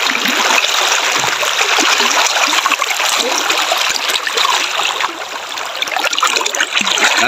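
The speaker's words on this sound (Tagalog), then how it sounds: "Bilis na tubig" Fast-flowing stream water rushes and splashes nearby in a steady, loud, broadband wash that hardly changes over several seconds, with no voices.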